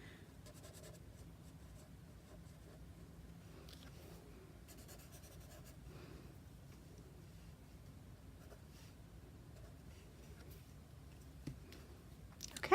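Pen sketching on paper, faint scratchy strokes in short bursts over quiet room tone, with a soft bump at the very end.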